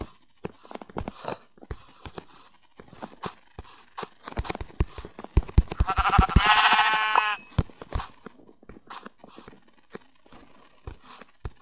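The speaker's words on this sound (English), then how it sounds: "Oh yes, another sheep." Sheep bleat in Minecraft Pocket Edition, a loud wavering call rising over scattered game clicks, footsteps and thuds, heard close with no talk.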